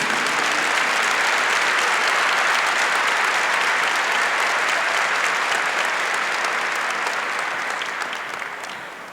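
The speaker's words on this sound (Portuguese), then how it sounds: "Pode aplaudir que isso é plano de Deus." A church audience breaks into loud, dense applause that holds steady for several seconds before gradually tapering off toward the end.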